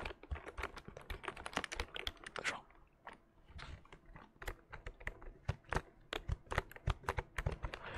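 Membrane computer keyboard being typed on up close, a dense run of soft, deep-toned key clacks in quick irregular rhythm, with a brief pause midway.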